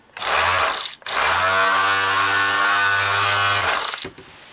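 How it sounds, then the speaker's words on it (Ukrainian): Bosch GSS 23 A orbital sander switched on twice: a short burst, a brief stop, then a longer steady electric whine with a low hum that winds down near the end, close and loud with no talk. "Давайте включимо, послухаємо, як вона працює."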